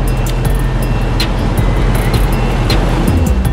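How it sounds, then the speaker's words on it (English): A car rolls by on the road during a Southeast Shindig muscle car cruise, a loud, steady roadway rush close to the listener with no break across the stretch. "Here comes another car."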